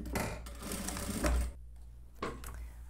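A sewing machine stitches around the neckline of a denim dress in two bursts of rapid, rhythmic needle chatter, with a short pause between them.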